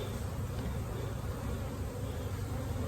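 Bees in a hive box give a dense, steady buzzing hum that fills the whole stretch close up, with no talk.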